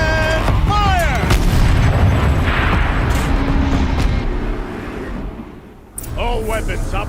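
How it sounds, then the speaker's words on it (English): Heavy turret cannon fire from a war machine in Horizon Zero Dawn, loud booming blasts and rumble in a dense battle mix, with game voices speaking over it. "Rotate turret! And fire!"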